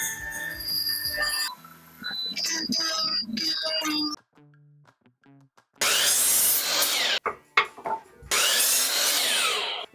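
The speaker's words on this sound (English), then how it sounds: "I'm gonna put a round over in a good portion of it." A router rounding over the edge of a pallet wood trim piece, heard in two long, loud, harsh whining bursts of cutting after a quieter stretch of tool handling and brief pauses.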